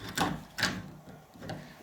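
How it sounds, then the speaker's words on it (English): A MIG-welded door latch knob being pulled so the latch draws nearly flush: three short mechanical clunks and scrapes, close and fairly loud, spaced across a couple of seconds with quiet between. "I'm going to see if it actually pulls the latch now"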